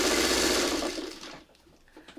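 A sewing machine stitches quilt seams up close, whirring steadily for about a second before slowing and stopping, followed by faint handling sounds.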